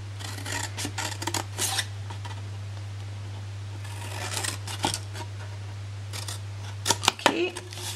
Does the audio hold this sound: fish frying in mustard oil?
no